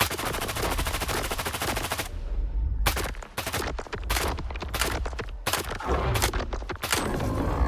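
An upgraded gun in STALKER 2 fires long rapid automatic bursts, first one continuous stream, then a string of shorter volleys with brief gaps between them, loud and close.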